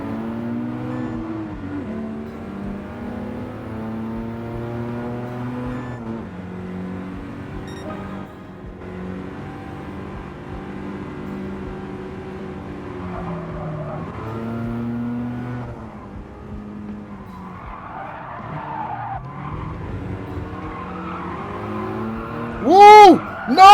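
Race cars, including a Supra, run nose to tail in GT Sport, with engine notes climbing and falling through gear changes and a sharp squeal at the very end.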